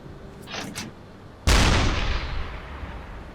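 A submarine deck gun fires one loud, sharp shot in the UBOAT video game, its boom decaying over about two seconds, after a few fainter earlier sounds.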